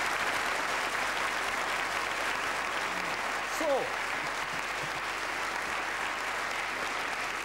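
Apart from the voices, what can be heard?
audience applause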